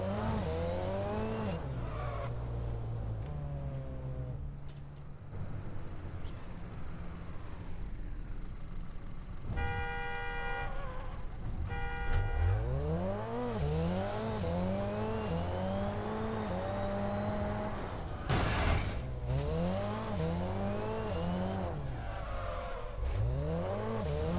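A car in the Crackdown 3 video game revs up and down in repeated rising sweeps, with sharp tire squeals and skids between bursts, loud and close throughout.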